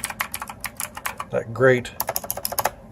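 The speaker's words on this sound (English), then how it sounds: "clicky sound for mechanical keyboards." Rapid clicky keystrokes from an EagleTec KG040 mechanical keyboard tap in an uneven, busy rhythm. Someone briefly speaks in the middle of the typing.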